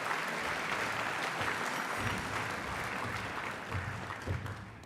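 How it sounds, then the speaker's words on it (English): Guests at an awards ceremony clap warmly, a continuous spread of applause from a room of tables, with a few sharper individual claps near the end. "Nice little bit of applause, please."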